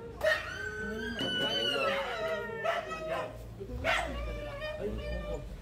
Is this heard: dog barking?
yes